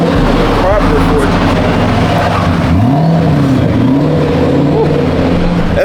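A first-generation Ford GT at a car show revs loudly up and down in strong, swelling bursts, with people talking over the engine.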